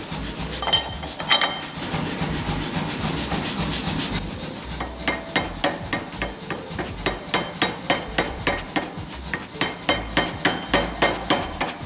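Hand hammering during forge welding of a feather-pattern Damascus steel billet: a few seconds of rushing, scraping noise, then a long run of evenly spaced, ringing metallic blows, close and loud.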